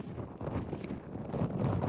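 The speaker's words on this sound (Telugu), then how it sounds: "గాలి గాలి గాలి. క్రాస్ విండ్స్ చూసారా ఎలా ఉన్నాయో?" Strong crosswind gusting across an open mountain slope in Kashmir, a steady broadband roar buffeting the microphone throughout with small surges, and no speech.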